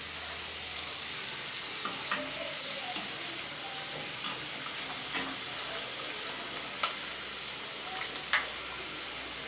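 Samosas fry in oil on medium heat with a steady, soft sizzle and faint crackle, broken now and then by a few sharper pops and clicks.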